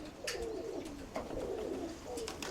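Pigeons coo in soft, rolling phrases at a moderate distance, with overlapping calls and a few faint flutters and clicks across a steady background.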